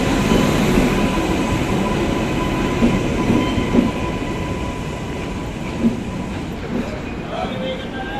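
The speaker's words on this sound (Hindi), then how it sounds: "तो टाइम से 15 मिनट पहले अपनी ट्रेन आ चुकी है।" Siddhabali Jan Shatabdi Express pulling into a station platform, a loud steady rumble of rolling railcars with occasional clanks and a faint wheel squeal, while a voice talks over it.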